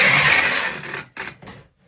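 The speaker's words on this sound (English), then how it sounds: "Sorry for the noise. And this is a 3-inch tape gun." A loud, harsh screeching rip of packing tape pulled from a 3-inch tape gun across a shipping box for a wreath, followed by two shorter tearing bursts, then quiet.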